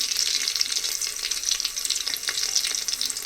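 Garlic, cumin and curry leaves fry in hot oil in a pan, making a continuous bright hissing sizzle with light crackles, close and steady, with no speech.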